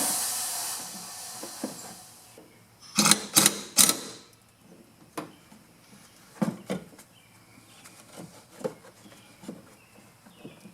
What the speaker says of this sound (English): I'll let the compressor pump up.